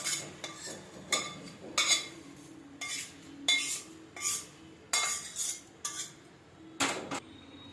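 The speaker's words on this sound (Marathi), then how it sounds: "आता हे सगळं आपल्याला चांगल्यापणे मिक्स करायचं आहे" A spoon stirs puffed rice chivda with roasted coriander and curry leaves in a metal pan, making repeated rhythmic scrapes and clinks against the metal, fairly quiet and close.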